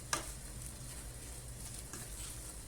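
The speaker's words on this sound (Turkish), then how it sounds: "Şöyle iyice karıştıralım. Bütün lezzetler karışsın." Spinach with chili flakes is stirred in a pot, a quiet low sizzle with a soft spoon clink at the start and light stirring sounds; no one speaks.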